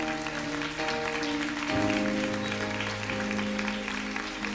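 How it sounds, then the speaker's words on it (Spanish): A church audience applauds a pastor being welcomed at an evening event, clapping spread across the crowd under sustained organ or keyboard chords. "Denle un fuerte aplauso"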